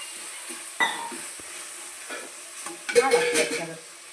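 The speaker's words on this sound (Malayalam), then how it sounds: "ഒക്കെ കൂടെ അങ്ങോട്ട് നല്ലപോലെ നല്ല ഇളക്കി വെച്ചത്" A spoon scrapes and stirs through a curry in a pan over a soft background sizzle, with a sharp clink early on and a busier burst of scraping toward the end.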